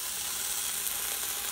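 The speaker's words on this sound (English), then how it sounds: "So you're gonna hear the sizzle." Steady, dense sizzling of pot roast meat searing in hot oil in an electric pressure cooker, close and continuous with no pauses, filling the whole moment.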